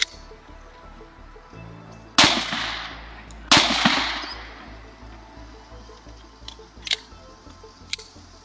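Two sharp, loud 9mm NATO ball gunshots from a Glock 19 fired at bulletproof glass, about a second apart, each with a short ringing decay, followed by a few faint clicks.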